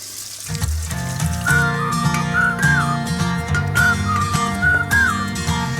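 Bratwurst-shashlik skewers of German sausage fry loudly in hot fat, a dense steady sizzle with a faint whistling tone above it and no talk.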